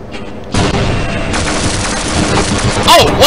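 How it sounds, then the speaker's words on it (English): Rapid bursts of turret gunfire and crackling laser explosions in the Half-Life video game, a loud dense barrage that continues unbroken, with a sharp sweeping electronic whine near the end. "that turret fire pushed me into the lasers, which exploded on contact"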